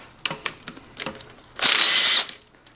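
A power tool loosens a 17mm nut on a GY6 scooter stator, preceded by several light metallic clicks and taps, then a loud whirring burst of about half a second, close up and alone.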